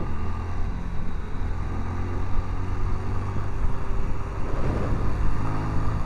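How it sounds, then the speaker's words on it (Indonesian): A 110 cc motorcycle is ridden on a highland touring road near Berastagi, a constant low engine drone mixed with rushing wind at a steady, moderate level throughout. "Motor 110 cc kita pakai touring ya kan"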